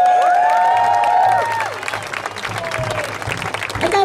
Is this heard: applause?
yes